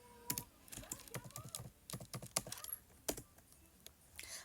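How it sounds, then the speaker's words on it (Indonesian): Quiet, close keystrokes on a computer keyboard as numbers are entered into a spreadsheet, a run of irregular separate taps with brief pauses between them. "Kita ketik di sini 19 juta."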